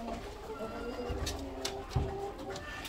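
Pigeons cooing softly in a farmyard coop near chickens, low murmuring coos repeating under steady background noise with a couple of brief knocks.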